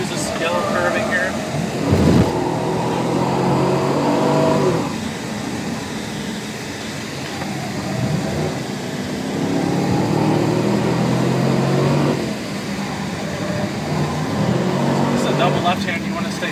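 A race car lapping the 2012 Detroit Grand Prix street course at around 110 on the straightaway, its engine droning loudly inside the cockpit and rising and falling through shifts and braking while someone talks over it throughout.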